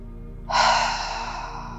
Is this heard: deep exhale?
yes